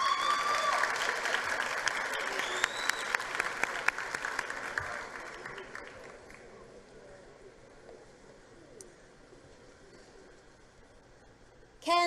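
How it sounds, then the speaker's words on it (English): An audience at a 2023 matric results announcement claps for the top technical sciences learner: loud, dense applause that gradually thins and fades to sparse claps, ending with a brief sharp noise. "May we please give him a round of applause."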